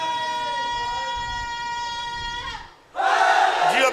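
A majlis crowd at 38 JB Chak Degora, Faisalabad, roars back in answer to a slogan chant: one long, held, tonal call rings out, drops briefly, then a loud massed shout of many voices bursts in.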